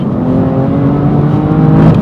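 A BMW M4 GTS with a titanium exhaust holds a loud, steady engine note, the pitch rising slightly toward the end as it revs, heard close and alone.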